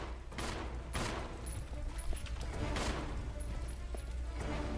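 Gunfire in a retro video game: a few sharp bursts of shots over a steady noisy background, faint and compressed.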